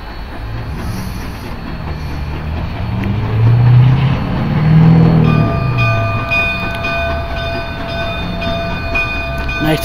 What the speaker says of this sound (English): Here comes the train. The 44 is coming back from the Y.